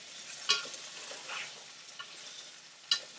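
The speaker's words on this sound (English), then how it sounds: "Keep stirring these ingredients." Potatoes and green peppers fry in a pan and are stirred, giving a low sizzle with a few sharp scraping knocks of the utensil against the pan, two of them standing out.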